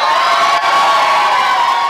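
Live crowd at a club concert cheering and whooping loudly, a sustained roar of many voices with shouts rising above it and no break.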